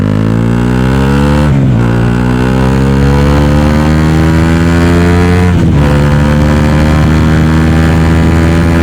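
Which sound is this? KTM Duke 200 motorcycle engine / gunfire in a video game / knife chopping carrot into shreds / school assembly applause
KTM Duke 200 motorcycle engine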